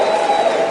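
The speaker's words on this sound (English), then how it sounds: "Give yourselves a round of applause." Audience at a motivational talk applauding and cheering, a dense, loud wash of crowd noise with voices and claps blended together, sustained without a break.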